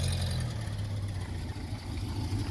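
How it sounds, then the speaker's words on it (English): Citroen H Van engine idling steadily up close with an uneven low puttering from a small exhaust leak, continuous and fairly loud throughout. "your exhaust is leaking a little bit. I can hear it kind of puttering"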